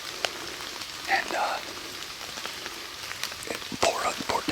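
Rain pattering in wet woods, a soft continuous patter with scattered louder drips and drops.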